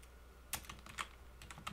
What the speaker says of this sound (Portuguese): com o teclado eu posso escrever voz